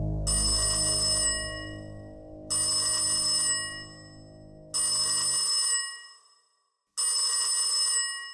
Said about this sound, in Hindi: फोन तो उठा लिया करो